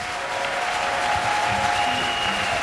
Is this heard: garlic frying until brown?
no